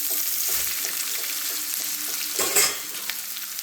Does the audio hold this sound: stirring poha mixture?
yes